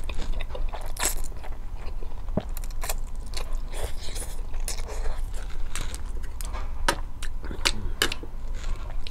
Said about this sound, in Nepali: त्यही भएर एक्लै अब रामेन खान लागेको